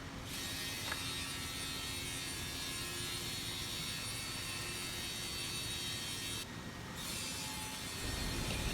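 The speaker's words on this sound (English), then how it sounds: "we will use this CNC machine to cut in the four edges of MgO board according to customer's requirement size." Steady machine roar and grinding hum of a CNC machine trimming the four edges of MgO board in a production line, continuous and fairly distant, with a brief hiss partway through.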